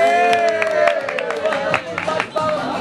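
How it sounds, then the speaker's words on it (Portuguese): Clapping and cheering from a group at a Supercopa Desimpedidos football final, with voices shouting and talking over the scattered applause, close and lively. "Luiz Balão, aplausos aí."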